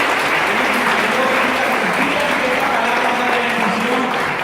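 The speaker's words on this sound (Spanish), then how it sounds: "vamos a darle un fuerte aplauso a los que están en Chicago y a los que están en Chiapas" A church congregation applauds loudly during a Spanish-language sermon, a dense, sustained wave of clapping and crowd noise that fills the room from start to finish.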